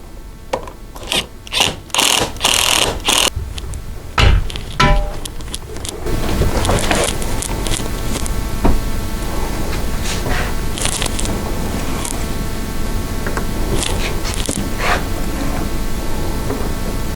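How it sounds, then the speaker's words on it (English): A handheld impact wrench drives bolts into a CF Moto U-Force 1000 cab. Several short, loud rattling bursts come first, followed by a long stretch of steady mechanical whirring and clatter, with no talking. "Now we'll take our impact and our 7/16 wrench. We'll tighten this down."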